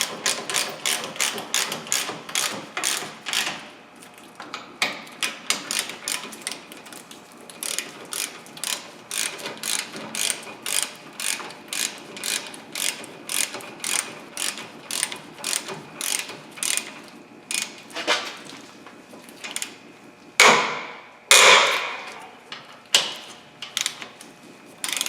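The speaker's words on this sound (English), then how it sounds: "now we'll tighten up the bolts" Ratchet tightening brake caliper bolts on a 2002-2005 Ford Explorer, giving long runs of rapid, even clicks that pause, resume, and end in a few sharper clacks, close and clear with no speech.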